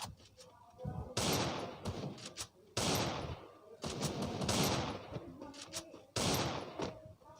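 Free Fire battle royale gunfire, rapid loud bursts of automatic shots in several long volleys separated by short pauses, close and harsh, with faint game sounds between.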